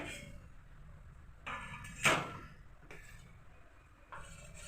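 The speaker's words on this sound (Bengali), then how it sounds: "কুড়ি মিনিট পরে ঢাকা তুলে নিচ্ছি ব্যাটারে।" A metal lid clanks as it is lifted off a pot of steamed dhokla batter, one short bright clatter amid quiet kitchen handling noises.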